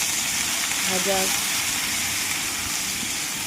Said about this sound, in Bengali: দিয়ে দিয়েছি একটু লবণ, সামান্য হলুদ দিয়ে ভালো করে ভেজে নেব।